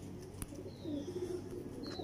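A Teddy pigeon coos softly and low, in a short murmuring call over quiet background noise. No one speaks over it.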